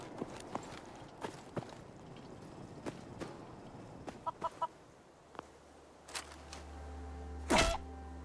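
A chicken clucks softly in Fallout 4 amid scattered footsteps and light thumps, a few short cluck bursts in the middle, ending with a louder sharp squawk near the close.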